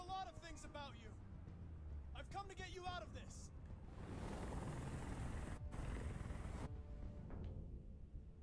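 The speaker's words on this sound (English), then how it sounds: "Chopper needs to go." Helicopter in the video game Detroit: Become Human, a steady broadband rotor and engine roar building and holding for several seconds after spoken voices at the start, loud and close, cutting out briefly near the end.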